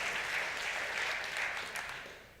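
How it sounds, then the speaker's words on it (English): An audience claps at a conference talk, a brief wash of steady applause that starts full and gradually fades out, heard from within the room. "yeah, claps. Love claps."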